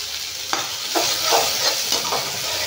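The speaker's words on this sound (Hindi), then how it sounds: "ये टमाटर काट रखा है, इसको डालती हूँ अभी। इसको अभी भूनते हैं, थोड़ा कलर चेंज होने देंगे।" Chopped tomatoes stirred and frying in a hot pan over a raised gas flame for a Pahadi gaderi (taro) curry, with a steady close sizzle broken by several scraping stirs, no voices.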